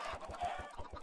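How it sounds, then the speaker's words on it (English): Chickens clucking in the Minecraft video game, a quick run of short repeated clucks over steady game background noise, no talk. "I don't like having chickens running around."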